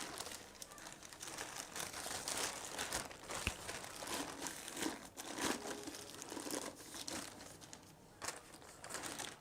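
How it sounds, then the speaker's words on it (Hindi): A thin polythene plastic bag crinkles and rustles steadily as it is stretched and pulled over a kitchen mixer grinder, a close, dense crackling that carries on throughout with no voices. "सिंपली आपने पॉलीथीन लेना है और इसके ऊपर आपने इस तरीके से चढ़ा देना है"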